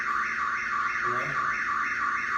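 At a back entry door, a security alarm sounds a loud continuous warbling siren that rises and falls in a steady cycle, about two per second, with no voices over it.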